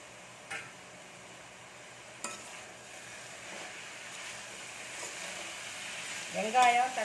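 Brinjal sautéing in a pan gives a low, steady sizzle with a few sharp clicks. A louder burst of stirring comes near the end.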